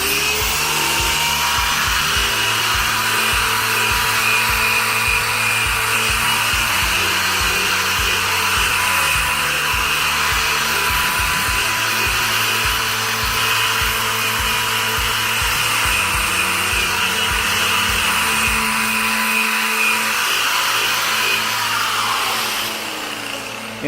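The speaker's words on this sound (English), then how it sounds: "So now I'm going to buff this literally about 15 times." A power buffer whirs steadily while polishing compound into a 2003 Infiniti G35 headlight after 3M sandpaper work, a loud continuous motor drone with shifting pitch as it moves back and forth, easing off near the end.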